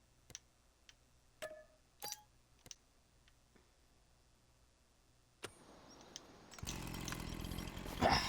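A chainsaw in a landscaping video game: scattered sharp clicks and ticks over a quiet background, then a loud rough engine roar bursts in near the end and keeps running.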